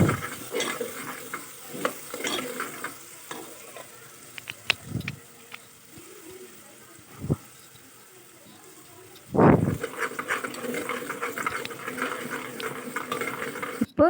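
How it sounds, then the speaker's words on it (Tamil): Ginger garlic paste being sautéed and stirred in oil in a pan for chicken biryani, with soft sizzling under intermittent spoon scrapes and clunks, close, with a brief louder clatter midway. "நல்லா பச்சை வாசனை போகிற வரைக்கும் நல்லா இஞ்சி பூண்டு பேஸ்ட்டை நல்லா வதக்கி விட்டுக்கோங்க"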